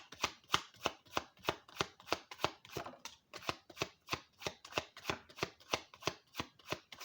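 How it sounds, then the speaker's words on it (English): Spiritual AF Inspiration Deck oracle cards are shuffled by hand, a fast, steady run of crisp riffling slaps repeating about three times a second, close and alone with no talking. "Shuffle how it feels comfortable for you and your energy."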